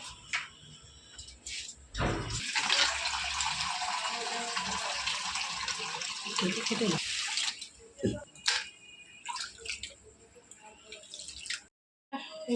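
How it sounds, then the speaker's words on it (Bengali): Rice grains rinsed by hand with water in a bowl, a steady splashing, dripping wash close up that runs for several seconds, with brief pauses and some background speech. "গামলাতে চালটা ধুয়ে দিয়ে দিই"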